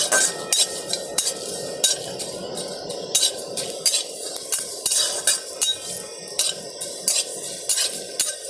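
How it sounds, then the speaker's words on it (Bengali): Coriander, cumin, fennel seeds and two dried red chillies fry in a pan under a quiet sizzle, while a metal spoon scrapes and clinks against the pan in a steady stirring rhythm, close and with no talking. "মশলাটা ভেজে নিচ্ছি।"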